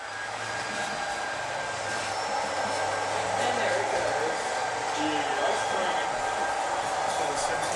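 A model railroad train runs steadily along its track on a large layout, giving a continuous rolling rumble with faint wheel squeals while people talk nearby.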